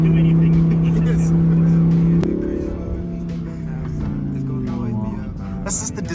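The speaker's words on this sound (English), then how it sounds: "not every day you see two Evos driving behind each other" Two Mitsubishi Evo cars drive past one after another, a steady engine drone that shifts in pitch as they go by, fairly close and loud.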